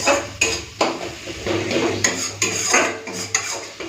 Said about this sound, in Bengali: চলুন মশলাটা ভালো করে কষে নিই